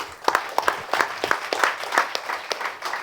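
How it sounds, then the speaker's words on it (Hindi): Sparse, uneven clapping from a small audience at a comedy show, separate hand claps popping out close and fairly loud without ever building into a full ovation. "अपने लिए जोरदार तालियां बजा सकते हैं आप लोग"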